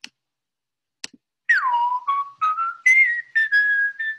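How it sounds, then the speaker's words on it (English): A person whistles a string of gliding, sustained notes with short gaps between them, clear and close, after a few faint clicks at the start. "is actually somebody whistling."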